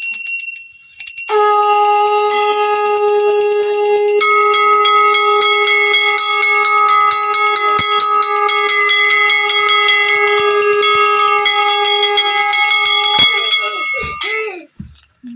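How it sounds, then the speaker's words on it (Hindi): A temple bell rings steadily and continuously during a Hindu Satyanarayan puja, bright sustained metallic tones with rich overtones, loud and close, fading out at the end. "बजाओ घंटी"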